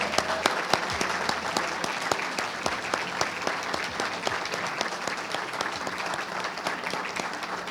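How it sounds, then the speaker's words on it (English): Audience applause at a school district employee service awards ceremony, a sustained wash of many clapping hands in a large room, steady and moderately loud from start to finish with no voices over it. "we could have one more round of applause for all of our employees today"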